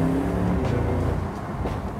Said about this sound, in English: the 9-speed dual clutch transmission, especially when you're playing with the steering wheel mounted paddles, delivers really rapid